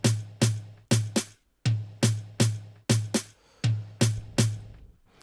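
Programmed drum samples in FL Studio, two snares and a tom, struck one at a time in a punchy repeating pattern of short, sharply decaying hits with brief gaps, dry and clear with no talking.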